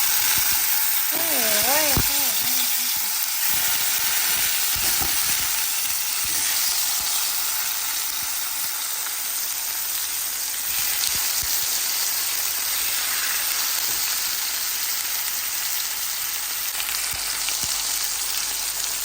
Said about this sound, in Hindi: इसी तरह ये फ्राई करते हैं